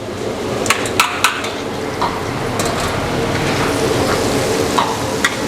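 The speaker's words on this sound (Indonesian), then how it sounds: "Kita aduk-aduk" Shrimp and onion stir-fried in a hot pan, with a steady loud sizzle and several sharp clinks and scrapes of a utensil against the pan throughout.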